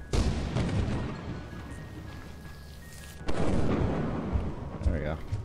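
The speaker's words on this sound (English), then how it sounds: "There's lightning." In the video game Lethal Company, a lightning strike lands with a sharp, booming crack that rolls into a rumble, followed by a second heavy thunderous burst, while people talk over it.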